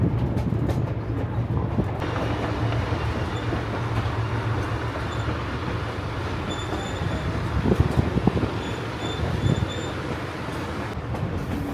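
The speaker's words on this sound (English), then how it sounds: "the engine really growls. It almost sounds like, I guess, you know, putting in a lot of work going uphill, but this growling locomotive" Narrow gauge railroad locomotive on the Durango & Silverton line growls steadily while working uphill, a continuous rumbling engine drone with rail clatter and faint wheel squeal, close and unbroken throughout.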